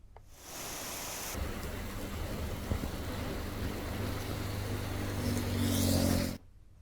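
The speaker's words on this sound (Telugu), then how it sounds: "అల్పపీడన ప్రభావంతో ఉత్తరాంధ్ర వ్యాప్తంగా కుండపోత వర్షం కురిసింది." A torrential downpour from a low-pressure system over north coastal Andhra Pradesh makes a dense, steady roar of rain that holds for about six seconds and then cuts off abruptly.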